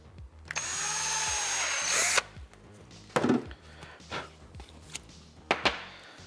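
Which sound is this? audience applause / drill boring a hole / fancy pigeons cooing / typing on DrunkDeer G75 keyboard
drill boring a hole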